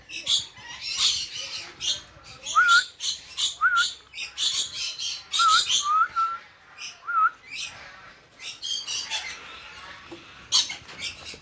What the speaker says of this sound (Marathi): सर्व पोपट आहे. हे बघा रंगीबेरंगी ओरडत आहेत.